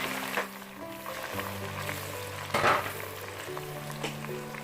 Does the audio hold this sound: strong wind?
no